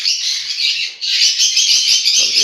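A crowd of birds in a breeding setup squawks and chirps continuously, loud and close, with a dense, overlapping chatter and a momentary dip in the middle.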